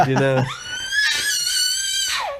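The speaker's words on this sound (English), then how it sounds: "That's a happy scream." A little girl's happy scream, a long, loud, high-pitched squeal that holds steady before dropping off, following a brief burst of voice.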